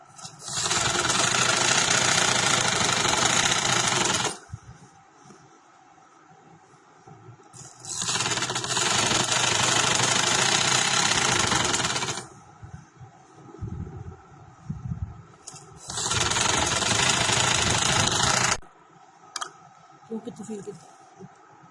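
An electric sewing machine stitches the waistband of a white trouser in three long, loud whirring runs with pauses between, where someone speaks briefly.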